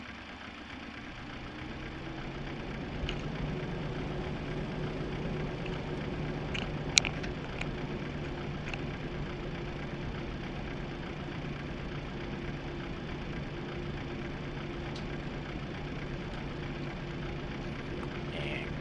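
A Boeing 737 jet engine spins up in a flight simulator, making a steady, even droning rumble with a faint whine. It holds at one level throughout, with a few small clicks and no voices.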